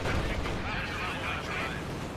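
Tank gunfire in a World War II strategy video game with Panzer IV and SU-85 tanks, a dense rumbling barrage of booming shots and explosions under a continuous roar of battle noise, with no voice over it.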